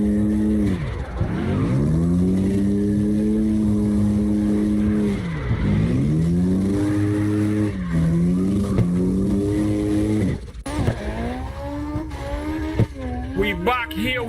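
Drift cars in CarX Drift Racing Online run a three-car tandem, engines droning and swooping in pitch while tires squeal and skid continuously, with a sharper burst of revving and screeching near the end.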